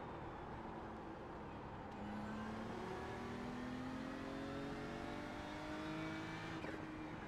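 A Ferrari race car engine in a racing game set at Suzuka drones faintly, with its pitch climbing steadily through the gears under a steady background whir.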